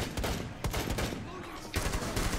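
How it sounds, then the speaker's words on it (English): Assault rifle fire from the Rainbow Six Siege Outbreak mode: several rapid, punchy bursts of close automatic gunfire in quick succession, with brief gaps between volleys. "His assault rifle's pretty good."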